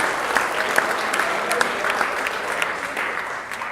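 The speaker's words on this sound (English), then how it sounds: "Get you clapping." Wedding guests at a reception clap steadily after the groom's speech, a dense, even round of applause that holds throughout and fades slightly at the end.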